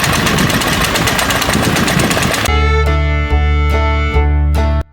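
A small old stationary engine drives a farmer's flour mill at an oldtimer tractor show, first a rapid dense chugging, then a slower, heavy, regular thumping beat, loud and close.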